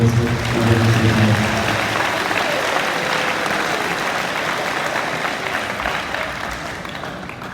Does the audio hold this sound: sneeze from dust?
no